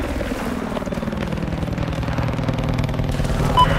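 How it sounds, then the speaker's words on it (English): A video game attack boat engine in Battlefield 4 drones steadily with a throbbing, rhythmic low chug, growing slightly louder toward the end, with no talking. "Attack boat's dead and all is true."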